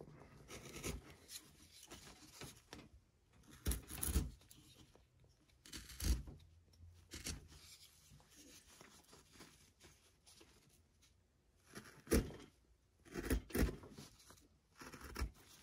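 A number 12 carving gouge cuts along the brim of a Santa's cap carved from scrap wood, giving quiet, scattered scraping and rasping strokes in irregular bursts with pauses between them.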